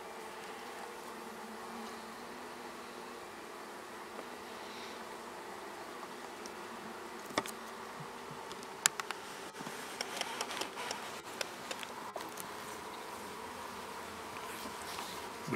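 Honeybees buzz around an open hive during a spring inspection, a steady close drone with scattered clicks and knocks from handling the frames.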